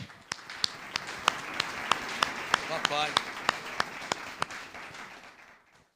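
During a church service, a congregation applauds God in rhythm, with sharp, evenly spaced claps standing out over a softer background of clapping. A voice briefly speaks midway, and the clapping fades toward the end.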